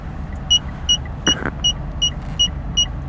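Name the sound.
car parking sensor beeping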